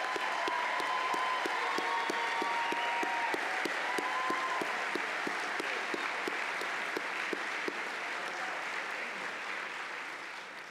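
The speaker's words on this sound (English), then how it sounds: "How about one more round of applause for all of our graduates today?" Sustained applause from the audience for new graduates at a Millikin University spring commencement ceremony, a dense steady clapping that holds throughout and eases off slightly near the end.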